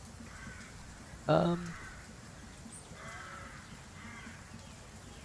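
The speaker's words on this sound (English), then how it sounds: "hear a crow." A single crow caw rings out once, short and fairly clear, over a faint hiss of ambient background sound, with low voices talking quietly around it.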